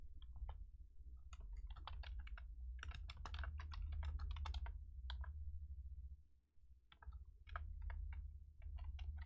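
Quick typing on a computer keyboard, rapid clicky key presses in bursts with a brief pause near the middle, faint and close over a low steady background hum.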